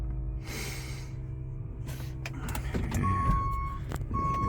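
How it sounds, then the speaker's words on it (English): A 2011 electric Ford Transit Connect powers up silently, then a steady reversing beep sounds repeatedly over a low hum as it backs up. "Just put it in reverse"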